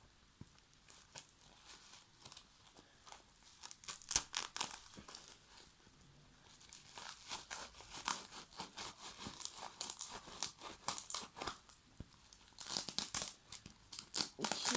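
Soft, irregular crinkling and rustling of thin plastic being handled, crackling in bursts up close, fairly quiet with no talking.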